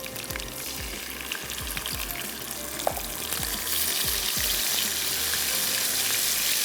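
Garlic and ginger paste frying in a pan for an aloo dish, a steady close sizzle with a few stirring scrapes and knocks, getting slightly louder toward the end.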